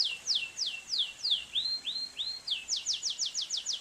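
A bird gives a continuous run of short, high chirps, quick downward sweeps with a few rising notes in the middle, clear and steady with no talk over them.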